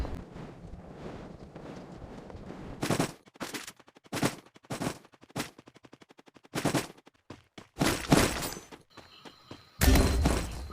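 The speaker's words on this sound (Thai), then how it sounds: "ผมจะไป ยิงเขา" Gunfire in the Free Fire battle royale game, a mix of single shots and rapid automatic bursts arriving in loud clusters separated by short pauses, with a final heavy volley near the end.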